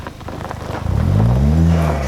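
Ford Fiesta ST with its sound symposer removed, engine rising from a low idle into a building rev, a smooth climbing drone that grows louder and fuller toward the end, heard alone without talk.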